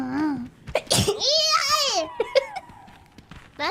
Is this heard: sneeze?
yes